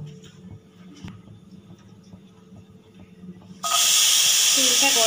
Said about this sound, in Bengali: তার মধ্যে অল্প পরিমাণে সাদা তেল দেব। দিয়ে গাজরটা ভেজে নেব